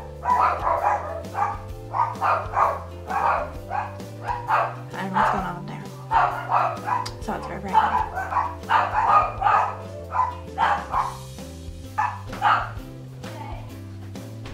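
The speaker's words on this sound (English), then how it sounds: "Hopefully the dogs are done barking something now." Dogs bark repeatedly in short yips over steady background music, with a voice speaking briefly; the barking is fairly close and persistent.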